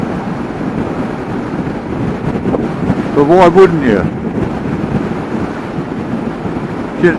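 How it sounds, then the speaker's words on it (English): Strong gusty wind buffets the microphone with a steady rumbling roar on a motorbike tour near Glencoe, Scotland, while a person speaks briefly partway through. "It moves the bike over, it's so windy up here."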